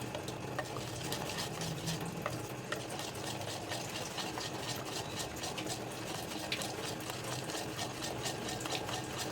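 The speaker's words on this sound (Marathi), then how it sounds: "छान फेटायचं आहे हलकं होईपर्यंत दोन मिनिट मह छान फेटायचं" Moong dal dhokla batter, made without rice and with a spoon of oil, being whisked briskly to lighten it, a steady rapid scraping and slapping rhythm close by, continuous and moderately loud with no talk.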